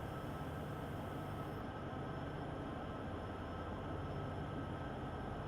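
A Union Pacific freight train powers uphill on Sherman Hill in Train Sim World 3, a steady, dense locomotive engine drone with rail rumble, continuous and unbroken, and no talking.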